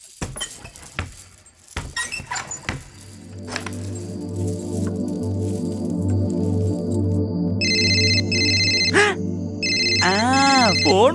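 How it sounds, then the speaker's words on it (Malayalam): Mobile phone ringing with an incoming call, its bright melodic ringtone rising and repeating over a sustained tone, preceded by a few brief rustles and knocks, loud and close with no speech. "ഫോൺ വന്നല്ലേ?"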